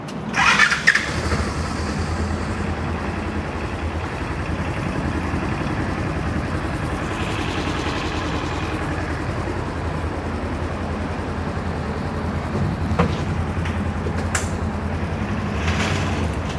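A 2017 Polaris Ranger side-by-side engine turns over and settles into a steady, close, loud idle, with brief louder bursts near the start and end and no talking.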